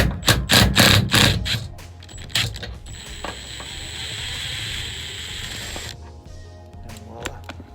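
A cross nut being installed in van sheet metal with a hand tool: a quick run of loud ratcheting clicks, then a steady creaking mechanical grind, with a few more scattered clicks and taps at the end.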